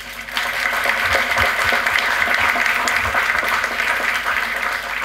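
Audience applause closing a presentation on sustainable construction and energy efficiency: a steady wash of clapping that starts abruptly after a brief pause and holds evenly for about five seconds, with a few low thumps beneath.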